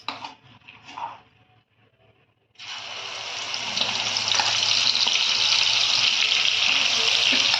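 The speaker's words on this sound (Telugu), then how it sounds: "నూనె కాగింది, నూనెలో వేసేసుకుందాం." Amla and green chillies drop into hot oil and fry with a sudden loud, steady crackling sizzle that swells and holds, after a few quiet handling sounds.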